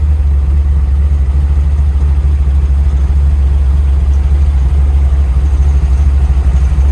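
A 1940 Ford Deluxe gasser sits at idle, its engine a loud, close, deep rumble. The pulse stays steady and even the whole time, with no revving.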